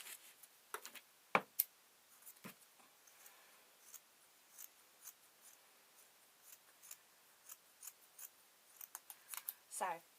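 Scissors snipping fabric while making a sleeping bag for a tablet, a series of quiet, close crisp cuts in an uneven rhythm, with a voice talking between the snips.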